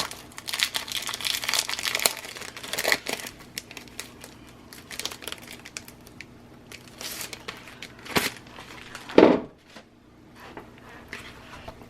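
Chipboard stickers slid into a plastic pouch: close, crinkly rustling of plastic with scattered crackles and one sharper crunch near the end, fairly quiet.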